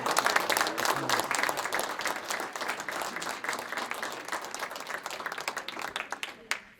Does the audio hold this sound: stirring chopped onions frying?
no